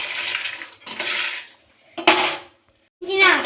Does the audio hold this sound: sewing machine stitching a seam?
no